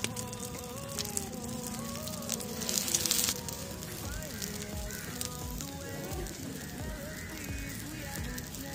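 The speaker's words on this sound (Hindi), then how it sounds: "थोड़ा सा ऑयल डालेंगे, आग बहुत तेज है, और टिक्की रख लेंगे।" Egg-dipped potato tikki frying in oil over a very hot wood fire, a faint sizzle and crackle with a brief louder hiss as the patties go in, under a low buzzing background.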